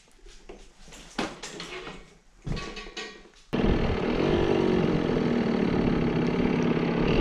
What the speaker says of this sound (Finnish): Nyt se käy taas tyhjäkäyntiä.